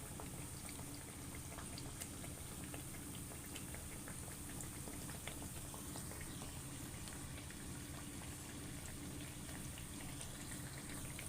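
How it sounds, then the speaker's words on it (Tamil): Fried Tamil-style parotta sizzles in hot oil, a dense, constant crackle and bubbling with scattered tiny pops, close and steady from start to finish, with no voices. "நம்மளுடைய பொரிச்ச பரோட்டா சூப்பராக ரெடி ஆகிட்டு இருக்குது"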